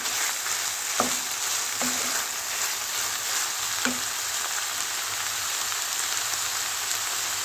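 Green peppers and a red kapya pepper sizzle steadily in a pan with chopped onion, a loud continuous hiss broken by a few soft clacks of stirring.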